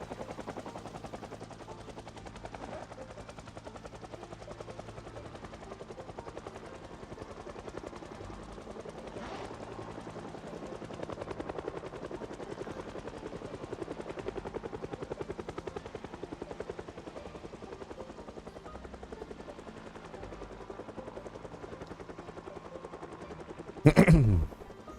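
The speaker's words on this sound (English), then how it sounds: "Yes, Gogi, you do hear the helicopter." A helicopter in the Project Zomboid zombie survival game, a steady low rotor drone that continues throughout at moderate level, with a short sharp burst near the end.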